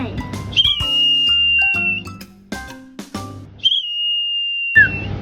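Sustained high whistled tones, imitating birdsong, ring out twice amid background chatter and clattering household noise.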